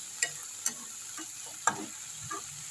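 Panch phoron spices fry in a pan over a low gas flame, giving off a faint, quiet sizzle punctuated by a few sharp, sparse crackles and pops.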